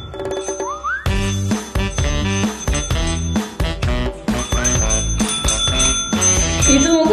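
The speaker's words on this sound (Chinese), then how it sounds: "好像果果的按铃声哎。" A dog pressing a service bell, striking it over and over in quick, uneven succession so the bright rings pile up into a loud, continuous jangle.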